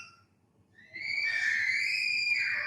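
A child screaming, one long sustained high-pitched shriek that starts after a brief faint moment and holds steady, moderately loud and somewhat distant, with no talking.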